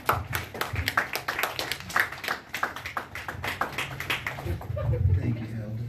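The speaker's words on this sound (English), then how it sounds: "Let's give a round of applause for him." An audience at a church gathering claps in a burst of applause that lasts several seconds, with voices mixed in and the clapping thinning out toward the end.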